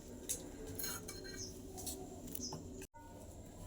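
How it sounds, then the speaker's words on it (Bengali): Taro (kochu) cut in a home kitchen, with a knife giving light, irregular clicks and scrapes at close range over a low room background, and a brief dropout near the end. "এই যে কচু কচুটা কাটছি"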